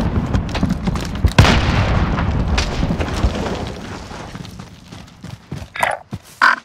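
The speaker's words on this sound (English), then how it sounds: "Throwing grenade." A grenade going off in Call of Duty Warzone, one loud close boom standing out amid rumbling battle noise and scattered thuds, followed by quieter sporadic sounds.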